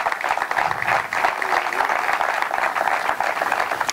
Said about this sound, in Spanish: Íñigo, hay que darle un fuerte aplauso